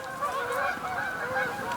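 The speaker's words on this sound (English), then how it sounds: "Hold please while the geese pass." A flock of geese passing overhead during a migration, honking continuously in overlapping calls, moderately close and steady throughout, with no talk.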